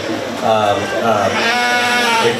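Sheep bleat at a 4-H sheep and goat show at a county fair, with several wavering calls rising over a judge talking loudly nearby.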